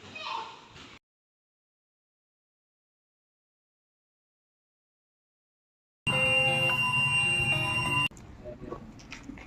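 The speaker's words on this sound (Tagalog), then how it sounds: "an alarm is triggered in the steering console" A ship's steering console alarm sounds as a steady electronic tone for about two seconds, close and fairly loud, after silence and brief speech, with talk resuming once it stops.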